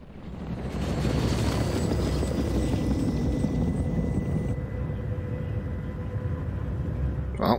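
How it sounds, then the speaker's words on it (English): A helicopter roars close by with steady rotor thrum, loud and continuous, then its high whine cuts off partway as the engine sound shifts lower. "Well, there goes that helicopter."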